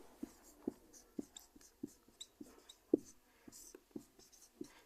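A pen writes out class 10 maths working in Hindi on paper, giving soft, close scratchy taps in an uneven rhythm of short strokes, quiet and steady throughout.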